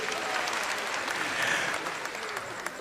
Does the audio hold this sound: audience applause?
yes